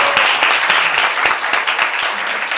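An audience claps at a panel discussion about government-issued history textbooks, a dense, lively round of many hands with distinct sharp claps popping out of the steady patter.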